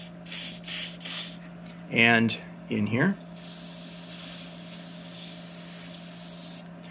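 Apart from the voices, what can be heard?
spraying onto lawn mower engine parts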